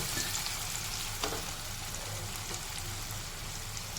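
Onion and tomato fry steadily in a pan on low gas, a continuous close sizzle with a faint stir or scrape partway through.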